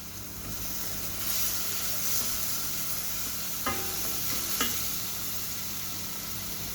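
A garlic clove sautéing in a hot pan for Egyptian-style green beans gives a steady close sizzle and hiss, with a few brief stirring clicks and scrapes partway through.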